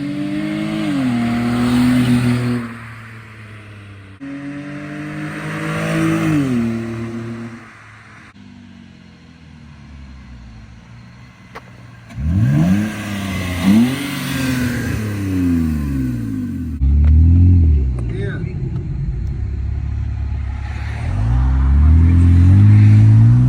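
A car engine with its muffler cut off revs hard in repeated loud bursts, rising and falling sharply, with brief idle gaps between pulls.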